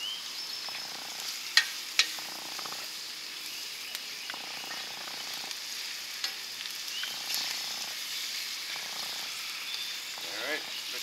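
Scrambled eggs cooking in a pan over an open fire during a power outage, a soft continuous sizzle with occasional light clicks and scrapes, fairly close and steady, with no talking.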